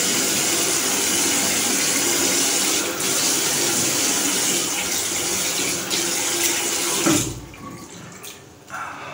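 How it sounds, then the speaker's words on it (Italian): Steady rush of cold tap water pouring close by for about seven seconds, then cutting off abruptly, leaving a few faint drips and clatters. "Adesso ci metto dell'acqua fredda"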